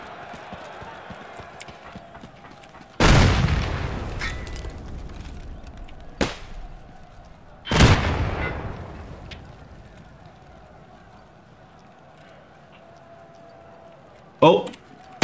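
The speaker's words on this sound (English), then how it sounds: "Watch the nade, they throw a nade." Grenade explosions in the Escape From Tarkov Arena shooter game: two loud, booming blasts a few seconds apart, each with a long rumbling decay, set among sharper cracks and a faint steady background hum.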